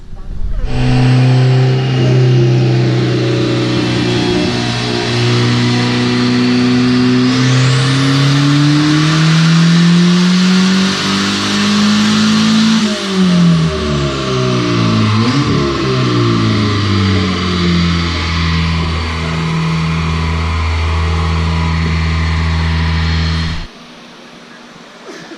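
A turbocharged LS VTEC Honda engine roars under sustained load during baseline dyno pulls without VTEC, its pitch climbing steadily, dropping, then rising again before cutting off abruptly near the end.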